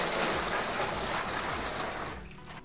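Water pours steadily into a bucket for mixing a bag of Baugips gypsum hand-applied plaster, about 14 litres, a close continuous splashing gush that tapers off near the end.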